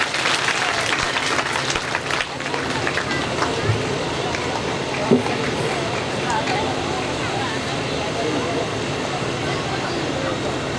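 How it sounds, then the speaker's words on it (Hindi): A large audience at a Hindu Bhagavat katha gathering in Kunaira, Etawah applauds steadily for about eleven seconds, a dense wash of clapping that holds at an even level. "तालियां, जोरदार तालियां।"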